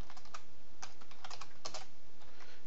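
Typing on a computer keyboard, a burst of quick irregular clicks with short pauses between them, close and clear over faint background noise.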